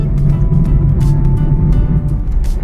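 Steady, loud low rumble of heavy highway traffic on the Pune–Nashik highway near Pimpri-Chinchwad, a continuous engine drone with faint passing noise throughout.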